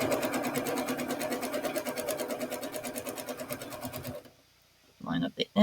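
A sewing machine stitches quilt block seams in a fast, even run of rhythmic pulses for about four seconds. It stops abruptly, then a short burst of stitching follows after a brief silence.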